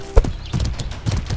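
Horse hooves clip-clop in the medieval combat game Mordhau: a few quick, close hoof strikes in an uneven rhythm, with a brief whinny-like tone near the start.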